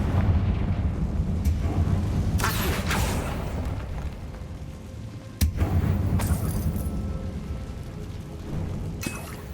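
Blasting spell explosions from the Confringo curse in Hogwarts Legacy: sharp bursts and rumbling booms over a continuous low game rumble, with several distinct impacts spread across the stretch.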